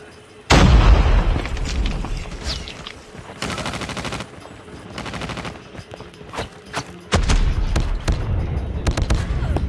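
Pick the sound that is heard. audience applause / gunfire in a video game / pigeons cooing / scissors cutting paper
gunfire in a video game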